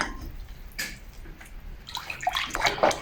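Milk poured into cooled syrup for cold baklava in a home kitchen, a soft liquid trickle and splash that builds louder toward the end with light sloshing, no talk.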